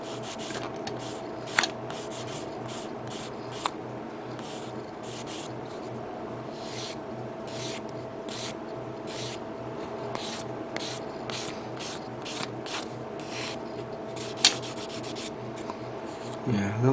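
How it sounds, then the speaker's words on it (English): Steady back-and-forth rubbing of a sanding stick on a hard plastic Gundam model kit part, a rhythmic scratchy rasp repeating close up, with a couple of faint clicks. "Let me get the sanding stick here."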